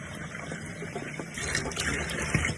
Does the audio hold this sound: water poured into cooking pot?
yes